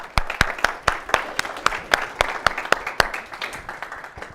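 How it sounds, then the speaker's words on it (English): An audience applauds a volunteer at a live stage talk, with sharp, evenly spaced claps standing out over a softer bed of clapping at a steady moderate volume. "Give it a round of applause."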